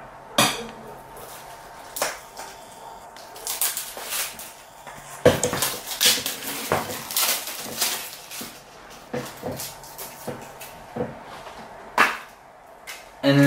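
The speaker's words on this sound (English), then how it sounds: "Cut the seal." A small knife slits the plastic seal on a Yu-Gi-Oh Nintendo Switch game case, giving a run of close, sharp clicks, scrapes and crinkly plastic handling that come in uneven bursts with brief pauses.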